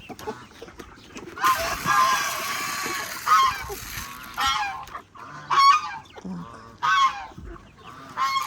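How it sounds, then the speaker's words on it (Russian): Geese honk repeatedly at close range, loud nasal calls in irregular bursts with brief pauses between them. "Гуси мои"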